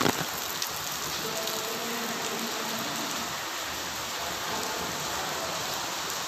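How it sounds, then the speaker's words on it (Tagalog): Steady rain falls during an outing to a thousand-Buddha temple site, a constant even hiss of drops on surfaces throughout, moderately loud and unbroken, with no talking. "Kahit umuulan ah, gala."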